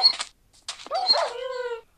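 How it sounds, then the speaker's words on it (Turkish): Dogs in the video game Craftsman: Building Craft let out a couple of short, close barks and yips, followed by a longer whining, tonal cry, with no talk over them. "Siz artık benim köpeğimsiniz."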